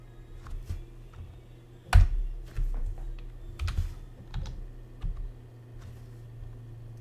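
Someone types a password on a computer keyboard, a run of irregular, close key clicks and taps with a louder stroke near the middle and brief pauses between bursts, over a low steady hum.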